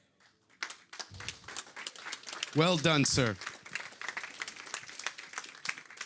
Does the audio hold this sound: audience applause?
yes